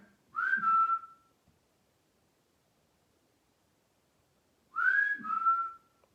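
A person whistles during a paranormal lockdown investigation at Uncle Tom's Cabin: two short, clear whistled phrases, each rising then holding steady, separated by a long stretch of near silence in a quiet room.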